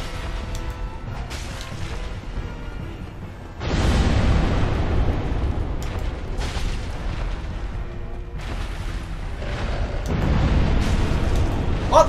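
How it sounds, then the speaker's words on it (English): Dark Souls enemy forward explosion attack: a loud, broad burst erupts, then rumbling booms and crashes follow in repeated surges amid dense game noise, with no speech. "Did he do the forward explosion when I wasn't in front of him?"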